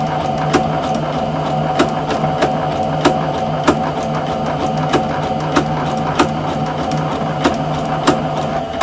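A sewing machine hums steadily while running gathering stitches over dental floss, with regular sharp clicks ticking at an even pace over the motor drone, close and alone.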